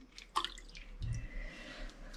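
Water poured into a Smeg kettle holding lemon juice for limescale removal, starting with a few close drips and then a short, low gushing pour, with no talking.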